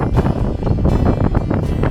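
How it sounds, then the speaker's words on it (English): Strong wind buffets the summit of Mount Batur, an active volcano in Bali, roaring loudly and continuously with gusty surges and no talking. "it was super windy on the summit"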